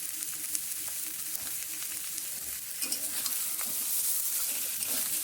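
Cauliflower and potato with salt, turmeric and spices are stirred in a frying pan, a steady close sizzle with scattered scraping stirs.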